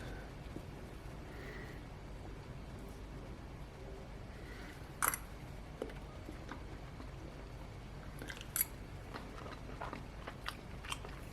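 Chewing on a fireplace-baked potato that is still partly raw, with faint crunchy bites standing out sharply around the middle and near the end over quiet room noise, and no talking.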